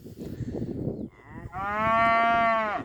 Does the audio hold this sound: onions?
no